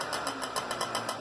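Keeway RY6 scooter engine, revived after a year standing, running in a quick, even pulsing rhythm close by for about a second.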